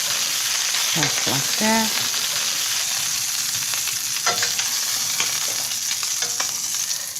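Chicken drumsticks fry in oil in a pan with a steady, close hiss of sizzling, broken by a few sharp clinks and scrapes. A voice speaks briefly.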